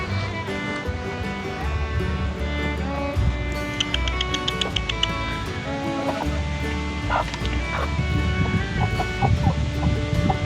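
Backyard homestead hens cluck and murmur steadily amid a dense outdoor wash of rustling and ambient noise, continuous throughout without a break.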